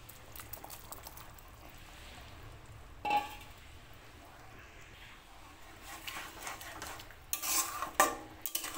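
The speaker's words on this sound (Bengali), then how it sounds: "ব্রোকলিটা দিয়ে নাড়িয়ে চাড়িয়ে আরও কিছু সময় ঢাকা চাপা দিয়ে রান্না করে নেব।" A utensil stirs fried broccoli into boiled potatoes in a pan, with soft scraping and clinks against the pan, a couple of sharper knocks, and a low simmering hiss running underneath.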